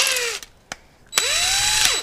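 A cordless drill bores into a steel seat bracket for a 1967 Chevelle, with two short bursts followed by a longer run of rising whine as the bit bites, close and loud with no talking.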